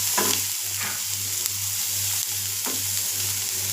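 Ingredients sauté in a pan with a steady, close sizzle. Occasional soft stirring knocks break through, and a low steady hum runs underneath.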